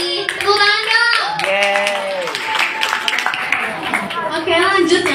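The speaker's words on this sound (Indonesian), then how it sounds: "Tepuk tangan dong." An audience at a school public speaking workshop in Jakarta claps steadily for several seconds, loud and close, while people's voices carry over the applause.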